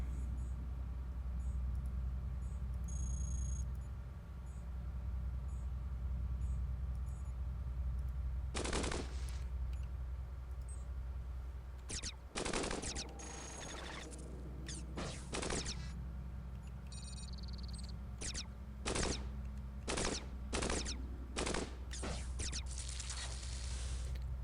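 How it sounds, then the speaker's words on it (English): Rapid bursts of beam cannon fire from Cogmind, the robot roguelike game, come in sharp repeated volleys over a steady low hum, isolated shots at first, then dense clusters of blasts. "I cannot hit anything with this beam cannon, apparently"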